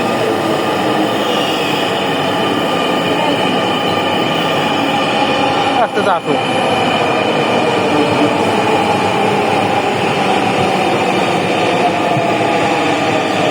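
A metro train pulls into a station with a loud, steady roar of wheels and rails filling the whole stretch, a brief squeal cutting through midway, while a voice speaks briefly over it.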